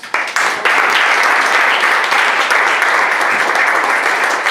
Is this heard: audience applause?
yes